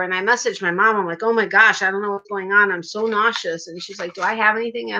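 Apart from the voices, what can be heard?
No everyday noises stand out.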